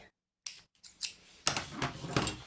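Scissors snipping along the edge of scrapbooking paper to bevel it for a gift box, a few sharp close cuts after a brief silence, then a quicker run of crisp snips.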